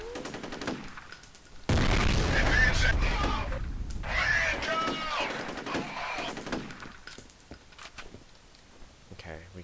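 Weapon fire in the game F.E.A.R., a loud burst of rapid shots starting abruptly, followed by scattered rattling shots and mechanical clatter that fade toward quiet, with someone talking during the firing.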